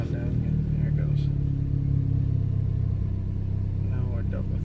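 A Ford Focus ST with resonator and muffler deleted, heard from inside the cabin: a low, steady engine drone with a faint turbo whistle, someone talking over it throughout.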